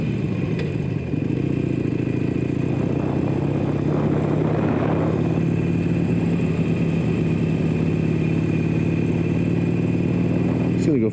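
A Harley-Davidson motorcycle rides along at steady speed in a park area, its engine droning loud and continuous with a little clatter, while someone talks over it.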